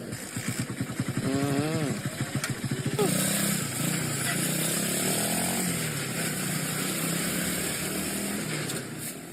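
A homemade vehicle with a motorcycle engine and bald, treadless tires runs with a loud, buzzing, rapid engine drone that pulses at first, then holds a steady rasping note close by.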